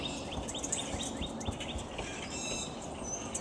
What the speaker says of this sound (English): That's the red-winged blackbirds.